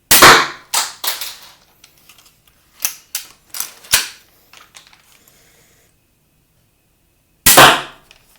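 Crossbow bolts from a Steambow crossbow with alloy shafts firing and striking, sharp snapping cracks in an irregular cluster of several shots, then a pause before one more loud crack.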